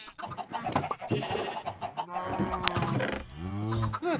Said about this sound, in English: Where's that chicken going, by the way?